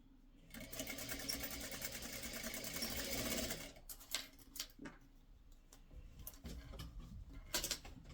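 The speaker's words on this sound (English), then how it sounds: "I'm going to sew this one with the piece on the bottom" A sewing machine stitches pre-cut quilt fabric pieces from a scissor and spool quilt kit, running in a steady, continuous whir for about three seconds, then breaking into short stop-start bursts of stitching and handling clatter.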